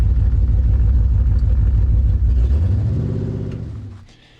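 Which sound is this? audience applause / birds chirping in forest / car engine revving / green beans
car engine revving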